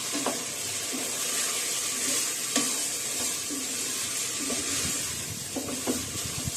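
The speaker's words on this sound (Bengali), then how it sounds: "চালগুলো সুন্দর করে ভেজে নিয়ে মাংসের ঝোল বা আঁকনির জলটা দিতে হবে" Meat broth poured into a pan of rice frying with whole spices for mutton biryani, a steady close sizzle and bubbling splash with occasional light stirring clinks, no talking.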